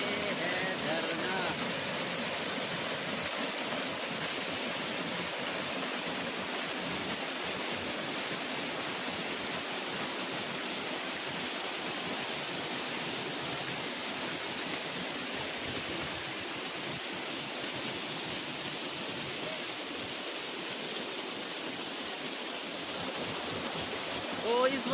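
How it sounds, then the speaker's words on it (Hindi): Waterfall at Ghaghari Dham near Lapung roars as a steady, loud wash of falling water throughout, with a voice faintly audible beneath the constant rush. "ये है झरना।"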